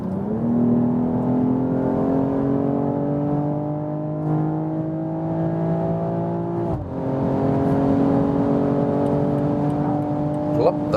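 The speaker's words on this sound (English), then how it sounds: "That is 100 to 200 kilometers an hour acceleration, so 60 miles to 125 miles acceleration." A 2022 BMW M440i Gran Coupé accelerates hard from 100 to 200 km/h, its engine note rising steadily under cabin noise, with one quick upshift dip partway through before climbing again.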